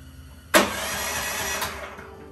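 The small engine of a Frontier OS23 portable sawmill starts with a sudden burst and settles into a steady close mechanical whir, fading slightly near the end, with no talking.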